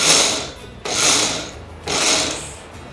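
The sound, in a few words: mixer grinder spinning spice paste with salt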